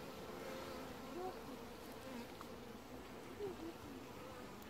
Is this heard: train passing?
no